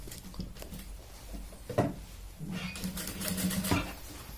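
A sewing machine stitches a pant seat seam in short bursts, with quiet rapid clatter pausing between runs, close and fairly soft.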